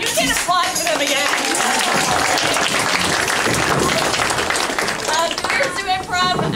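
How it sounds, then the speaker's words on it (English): Audience at a youth performance-group showcase breaks into sustained, dense applause that stays loud and steady throughout, with scattered cheers and voices mixed into the clapping. "You can applaud for them again."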